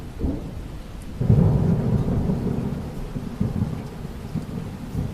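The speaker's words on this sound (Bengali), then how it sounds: "বৃষ্টি শুরু হলো এখন যে কি হবে" A cartoon thunderstorm: a long, deep roll of thunder swells and rumbles over steady rain hiss, loud and close, with no voices.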